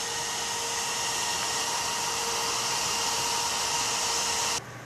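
A Cooler Master Hyper 212 Evo CPU cooler fan on an AMD FX-8350 runs as a steady, even airy whoosh with a faint tonal hum, heard close and alone, dropping slightly in level at the very end.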